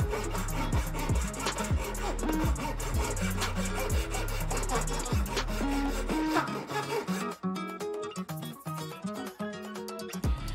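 A carved wooden Doctor Strange necklace is sanded, with rhythmic rubbing strokes at first that give way to scratchy, finer abrasive scraping, close and fairly quiet, no talk.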